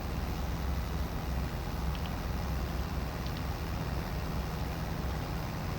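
Tractor engine in a farming video game, pulling a forage wagon with an AGCO swath mod, a low steady rumble and drone throughout, constant and fairly quiet with no talking.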